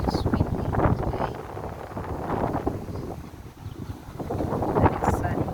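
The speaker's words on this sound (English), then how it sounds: "So, it's windy today." Wind buffets the microphone on a windy, sunny day in Limassol, Cyprus, gusty low rumbles rising and falling in waves, with a voice speaking briefly between gusts.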